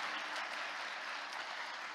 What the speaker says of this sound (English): Thank you for the big round of applause. Let's have another one.